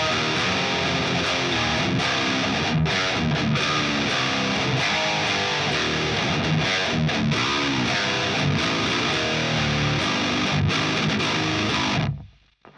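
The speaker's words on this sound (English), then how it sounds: "Here's our regular tone with no overdrive." Electric guitar run through an Axe FX amp modeler without an overdrive pedal, played continuously as dense, loud sustained chords and notes that cut off abruptly near the end.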